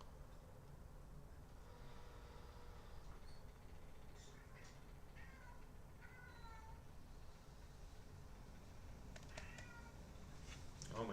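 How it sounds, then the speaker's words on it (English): A cat meows several times in short, rising calls, soft and somewhat distant, with a louder pair of cries near the end over a low background hum. "Oh my gosh, is that a cat?"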